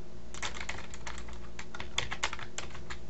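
Rapid, irregular clacking of keys on a computer keyboard, close and moderately loud, with brief pauses between bursts of typing over a steady low room hum.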